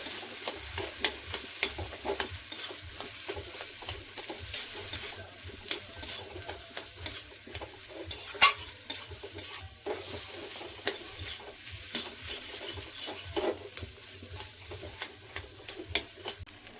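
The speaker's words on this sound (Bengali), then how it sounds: "হলুদ গুঁড়ো, লঙ্কা গুঁড়ো, জিরে গুঁড়ো, ধনিয়া গুঁড়ো। কিছুক্ষণ ভেজে নেব।" Ground turmeric, chili, cumin and coriander fry in a pan with a continuous gentle sizzle, punctuated by frequent light ticks and scrapes of a spatula stirring the spices.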